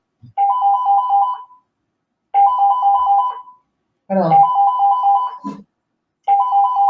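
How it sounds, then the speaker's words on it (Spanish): A mobile phone rings with a repeating electronic ringtone in four loud bursts about two seconds apart, with a brief apology spoken between rings. "justo me suena el teléfono"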